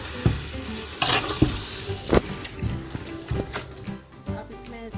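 Macaroni biryani frying with yogurt and spices in a pan, with intermittent sizzling and repeated scraping stir strokes at an uneven rhythm, fairly close and moderately quiet, with no talk.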